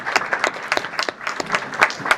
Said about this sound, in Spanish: Bueno, aplaudimos a Gustavo y no aplaudimos a Víctor.